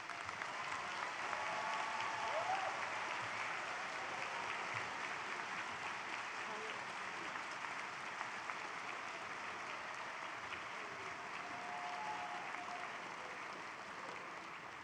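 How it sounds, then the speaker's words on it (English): A convocation audience applauds graduates in a large hall, a dense, steady wash of clapping from many hands that holds at even loudness for the whole stretch, with no talk over it. "let's give these graduates a round of applause."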